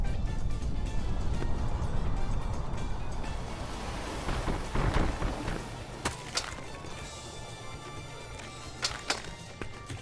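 Rain and thunder in the climbing video game Peaks of Yore: a steady hiss of rainfall with a rumbling roll early on and several sharp cracks and thuds later, fairly faint overall.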